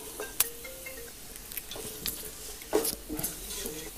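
Chopped carrot and cabbage are stir-fried in a pan, with a faint sizzle under repeated scrapes and clinks of a spatula against the metal, some taps sharper than others.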